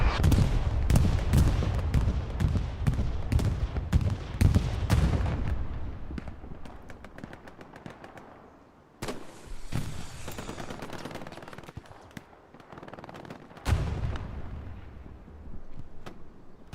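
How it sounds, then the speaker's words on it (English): Explosions from a bombing run and artillery pre-strike thunder in Hell Let Loose on Omaha Beach, a dense rapid barrage of booming blasts at first, thinning out into scattered loud detonations with pauses between. "Bombing runs coming through along with the pre-strike."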